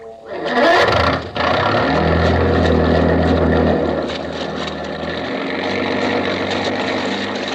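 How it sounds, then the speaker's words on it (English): A loud motorboat engine sputters and catches, then drones on steadily with a buzzing, churning rumble that eases slightly toward the end. "You wish to hear other motorboat, maybe, eh?"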